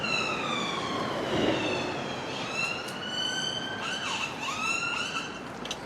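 Several emergency sirens wail at a distance in Walthamstow, London, their long rising and falling tones overlapping above a steady outdoor rumble.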